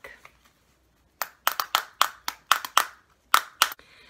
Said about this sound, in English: To make a hitting sound, I take two pencils and a book.